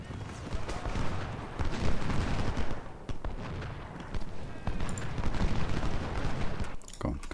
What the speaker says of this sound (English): Go on, continue firing.